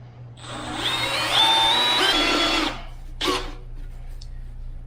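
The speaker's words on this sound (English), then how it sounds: "let me drill a hole in that joker" A handheld power drill bores a hole in a turbo pipe, its motor whining loudly for about two and a half seconds with a rising pitch, then stopping, followed by a brief clatter.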